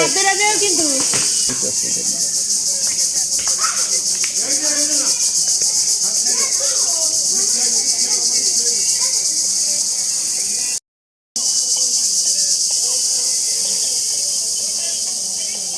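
Crickets chirp in a loud, dense, steady high-pitched drone around a home in Dohar, unbroken for the whole stretch apart from one brief cut, while people talk faintly underneath.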